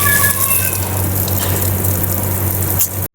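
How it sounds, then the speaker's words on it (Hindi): Steady, loud gush of water pouring onto dried-up potted plants at night, a continuous rushing flow close by with a brief cutoff near the end and no talking. "सो गाइस सभी में पानी डाल दिया"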